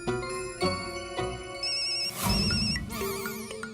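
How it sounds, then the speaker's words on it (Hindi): A phone ringtone plays loudly, a bright melodic electronic ring with bell-like tones repeating over a few seconds, no talking. "जब तक आप फोन नहीं उठाएंगे वो फोन करता रहेगा।"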